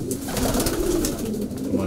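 Racing pigeons in a loft coo continuously in low, throaty, overlapping calls, close and moderately loud.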